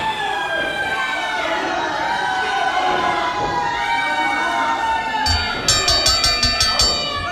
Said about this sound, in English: the crowd here in Port Richey showing their, I guess, discontent with this